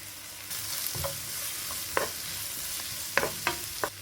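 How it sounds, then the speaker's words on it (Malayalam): Onions and crushed ginger-garlic fry in hot oil with popping mustard seeds, a steady close sizzle broken by sharp crackles and pops and the scrape of stirring. "കടുക് പൊട്ടി വന്നതിലേക്ക് ഒരു മൂന്ന് സവാള ചെറിയ പീസസ് ആക്കിയിട്ട് കട്ട് ചെയ്തിട്ടുണ്ട് അത് ഇട്ട് കൊടുക്കുക"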